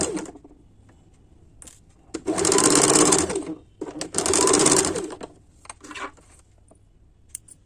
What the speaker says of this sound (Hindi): अब इसको घुमा के ठीक 2 दाग हटा के इसके ऊपर एक और सिलाई डाल दूंगी